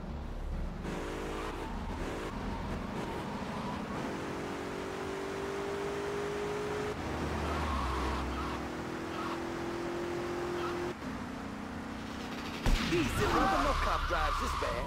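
A police car in Grand Theft Auto: Vice City drives with a steady, continuous engine drone. The pitch shifts as it speeds up and changes gear, and a burst of other game noise comes near the end.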